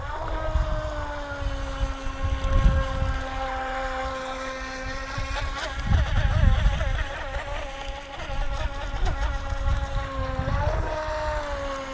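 A small electric motor on a UDI U001 racing RC boat whines steadily at a high pitch, rising and dipping in speed, with splashing water and wind noise around it.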